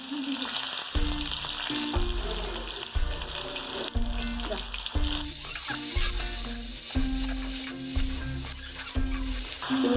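Crushed ginger frying in a pan for a raw date pickle: a steady, close sizzle punctuated by regular rhythmic scraping and clanking of a spoon stirring against the pan.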